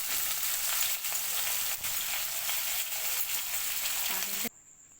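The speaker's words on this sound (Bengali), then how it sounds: "এবারে গ্যাসের ফ্লেমটা জোর করে এটাকে একটু ভেজে নেবো" Bitter gourd sizzles steadily in hot oil in a kadai over a high gas flame, a loud continuous frying hiss with faint stirring scrapes, cutting off abruptly near the end.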